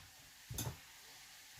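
Garlic and onions sauté in a pan for a cabbage, onion, sausage and potato lunch, with a faint steady sizzle and one brief louder stir or scrape midway.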